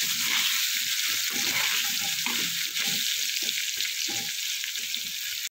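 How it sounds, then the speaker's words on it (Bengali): Potatoes seasoned with salt and turmeric fry in a pan for a Bengali pumpkin-and-potato curry, giving a steady, close, unbroken sizzle with no talk. "আলুটা আমি একটু ভাজা ভাজা করে নেব"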